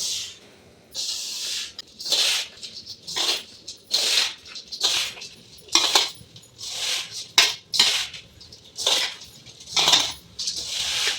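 Semolina being mixed into sugar syrup in a pan for a traditional homemade Diwali sweet, with a spoon scraping and clinking against the metal in repeated bursts, roughly every half second to second, close and fairly loud, no voices.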